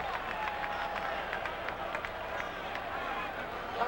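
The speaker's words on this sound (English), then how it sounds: "Crowd getting noisy again." Football stadium crowd at a CFL game, Toronto Argonauts at Hamilton Tiger-Cats, a broad steady roar of fans with scattered cheers and claps, heard under a commentator's voice.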